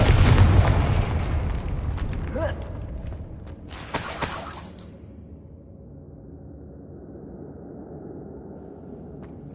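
A Confringo fire spell goes off in Hogwarts Legacy with a loud burst and crackling debris that fades into a quiet background, along with a few sharp impacts and a spoken voice.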